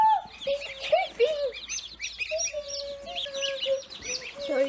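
Cornish cross meat chicks in a box, a busy mix of high peeping chirps with lower clucking calls from nearby poultry, faint voices in the background.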